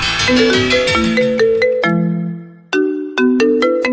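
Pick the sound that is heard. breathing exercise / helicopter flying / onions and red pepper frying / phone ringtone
phone ringtone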